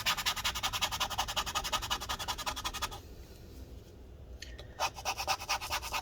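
Rapid, close scraping strokes as adhesive residue is worked off inside a late-2016 13-inch MacBook Pro A1706 during battery replacement, a steady run of rasping pulls that pauses midway before a few more strokes return.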